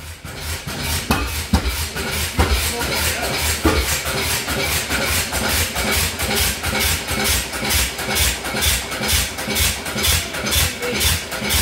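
The gasoline engine of a 1909 grain elevator, 112 years old, running at a steady rhythmic chug with a rapid pulsing exhaust, loud and close, without anyone speaking.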